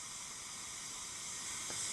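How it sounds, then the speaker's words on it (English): Steam hissing from a steam train as it builds pressure at a station before pulling away, a steady broadband hiss that swells slightly louder toward the end, with no voices. "And now we can hear the steam building"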